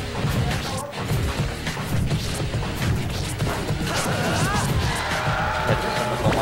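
Sword slashes and impact hits from Link's spin attack in a Super Smash Bros match, loud crashing whacks packed into dense, busy game audio with crowd-like noise and effects throughout.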